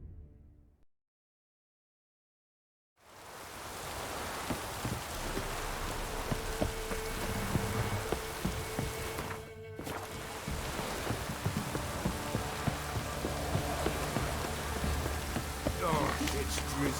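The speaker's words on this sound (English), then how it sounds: "Oh, it's drizzling." Light rain drizzles steadily in The Witcher 3: Wild Hunt, a continuous soft patter that fills the scene after a brief silent gap, with game ambience and occasional voices mixed in.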